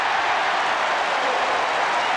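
A basketball arena crowd roars after an alley-oop dunk by Patrick Ewing in a Knicks–Celtics game, a steady, broad wash of cheering and applause that fills the whole moment, loud and distant-sounding with no clear voices.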